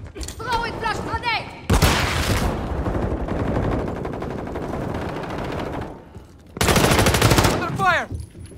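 Heavy automatic gunfire in Call of Duty Modern Warfare 3 multiplayer, two loud sustained bursts of rapid shots with a steadier rattle between them, while game voices shout over the action.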